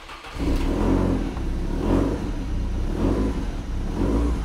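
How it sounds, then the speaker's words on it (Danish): Lancia Delta Integrale engine revving loud and close, a sustained throaty roar rising and falling in several repeated surges, with no talking. "at den der motor ligger i den her bil, den er simpelthen så sprød"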